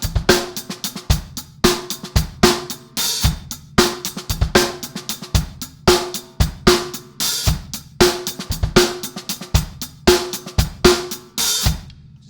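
A drum kit plays a quick drum and bass style groove, with punchy kick and snare hits, steady cymbal wash and soft ghost notes in a driving repeating pattern that sounds close and fairly loud, with no voices.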